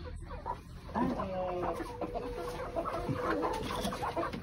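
A hen clucks in a chicken coop among egg-laying hens, giving repeated short clucks and low murmurs close by, while a person talks over the sounds.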